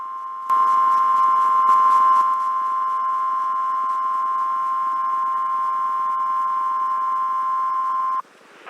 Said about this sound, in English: This is a test of the National Weather Service's radio warning tone alarm